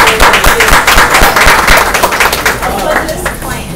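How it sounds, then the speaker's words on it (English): Audience applause for a guest author at a book event, a dense crowd clapping steadily and close for several seconds, tapering slightly toward the end. "Thank you for the applause"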